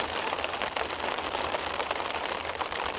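Rain falls steadily on the Isle of Wight, a continuous soft hiss of drops pattering on a surface, even and moderately faint with no voices.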